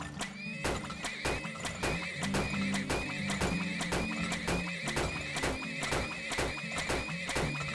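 Horse sounds in the video game Turmoil: a rapid, even run of hoof clip-clops with a drawn-out neigh mixed in, fairly quiet and steady for several seconds.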